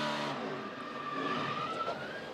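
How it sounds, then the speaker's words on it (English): A NASCAR race car engine running with a cylinder down at the 2012 STP 400 gives a continuous, uneven drone with a rising whine. It sounds moderately distant, with no talk over it. "You can hear the old engine."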